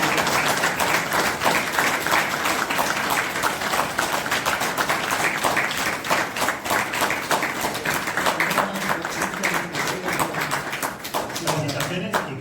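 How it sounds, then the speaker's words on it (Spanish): Loud, sustained applause from an audience at a book presentation, dense clapping running the full length with voices mixed in and a slight easing toward the end. "Un fuerte aplauso"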